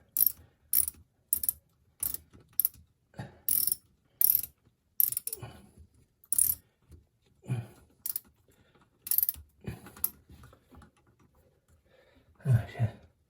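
A wrench ratchets in repeated short bursts of clicking while removing a Kohler toilet, close and loud with brief pauses between strokes, and a few faint grunts in between.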